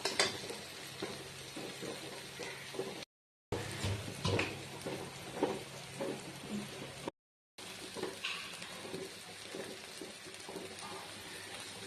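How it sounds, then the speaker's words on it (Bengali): Scrambled egg (dimer jhuri) frying and stirred in a pan, a steady soft sizzle with scraping spatula strokes and short clicks, twice broken by brief cuts to silence. "এটাকে আমি একদম ঝরঝরা করে ভাজবো।"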